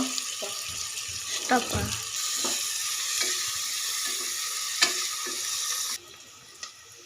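Onions fry in hot oil with a bay leaf for sprouted-bean pulao, a steady close sizzle broken by scraping stirs of a spoon in the pan, no talk.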